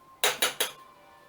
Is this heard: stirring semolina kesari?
yes